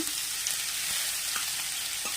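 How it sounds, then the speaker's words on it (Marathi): Radish thecha fries in hot oil, crackling and sizzling with small pops over a steady hiss; no talking. "तेल तापलेलं आहे आता आपण ठेचा टाकू"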